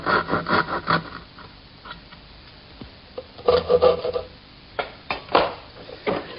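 Hand tools scrape and rasp at a wooden bevel on a dollhouse piece, irregular rubbing strokes close up, some in quick clusters with pauses between.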